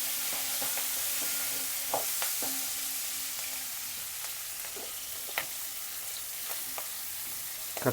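Mustard seeds, cumin, green chilli, onion and curry leaves fry in hot oil as a tempering for bitter gourd palya. A steady sizzling hiss carries a few sharp pops and stirring clicks.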